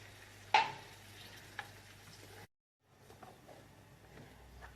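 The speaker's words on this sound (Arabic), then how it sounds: "وغادي نضيف واحد شويه ديال الماء ونرجع هاد الطاجين يتقلى" A tagine of spices frying in ghee is stirred, and a sudden splash of added water hisses sharply before a low sizzle continues. Near and moderately loud, with a brief gap of silence.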